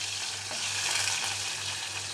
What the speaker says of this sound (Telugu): ఇప్పుడైతే అంతా ఒకసారి బాగా ఫ్రై చేసుకుందాం